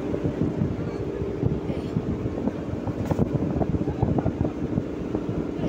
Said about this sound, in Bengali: এই যে ছেড়ে দিল ভটভটি